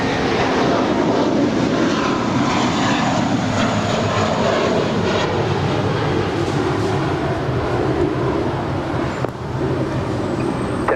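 A JetBlue jet airliner taking off from runway 25 right at LAX, a loud continuous engine roar filling the whole stretch with a steady rumble and rushing hiss.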